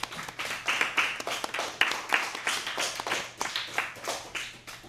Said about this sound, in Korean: 찬영이 박수로 한번 환영해주세요